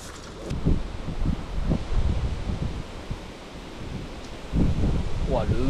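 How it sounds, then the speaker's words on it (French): Strong wind gusts buffet the microphone beside a river, rumbling in uneven bursts that swell and fade, with a short spoken moment near the end. "mais c'est un enfer le vent qu'il y a là aujourd'hui"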